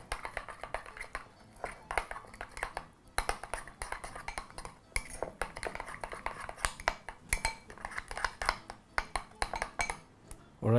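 A spoon mixing ranch dip with fresh ginger in a bowl, giving close, irregular clinks and scrapes of utensil against the dish throughout.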